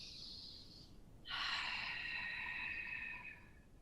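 A yoga practitioner's breath during a flowing arm-sweep sequence: one soft, close airy inhale or exhale around a second long, then a fuller, louder breath lasting about two seconds, with no talking.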